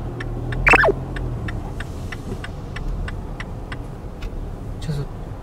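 Busy car traffic near a game center in Kawasaki on Halloween, a steady low rumble of passing vehicles with faint ticking and one sharp brief squeal, while someone speaks over it.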